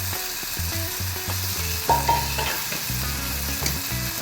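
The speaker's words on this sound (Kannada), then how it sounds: "ಇವಾಗ ಒಂದು ಸೊಪ್ಪು ಹಾಕ್ತಾ ಇದ್ದೀನಿ, ಸಬ್ಬಸಿಗೆ ಸೊಪ್ಪು" Fresh dill leaves fry and are stirred with mung beans and turmeric in a pan, making a soft crackling sizzle under a stepped tonal melody that plays throughout, with no talking.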